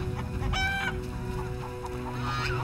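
Chickens clucking in the village of The Witcher 1 video game, several close, steady clucks and squawks over a continuous low ambient hum.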